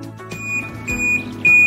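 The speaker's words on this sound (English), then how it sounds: "Alarm will automatically stop after 5 seconds of no movement" A bike lock alarm, triggered by movement, sounding repeated shrill electronic beeps in quick, uneven pulses, loud and close, with no voices.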